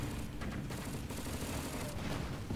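Machine gun fire in the war game Crisis by RJ Games: dense, overlapping bursts of automatic gunfire with booming battle noise, loud and continuous throughout.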